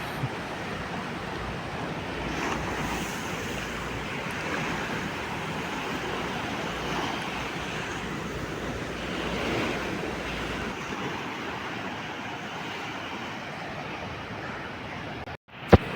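Ocean surf rolls steadily onto the sand at Besant Nagar beach in Chennai, a continuous wash of breaking waves mixed with wind rumble, with no voices over it.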